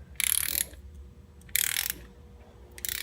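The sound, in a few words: ratchet torquing down valve cover studs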